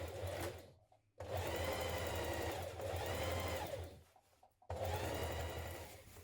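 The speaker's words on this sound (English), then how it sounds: "we're going to sew those together at the centre seam" A sewing machine stitches the centre seam of a pair of dungarees in three loud, close bursts of rapid whirring, separated by two brief pauses.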